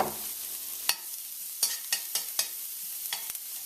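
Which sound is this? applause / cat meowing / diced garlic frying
diced garlic frying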